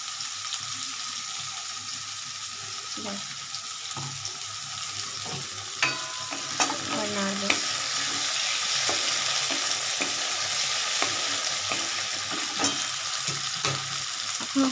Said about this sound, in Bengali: ভাজা হয়নি আর একটু ভাজা ভাজা হোক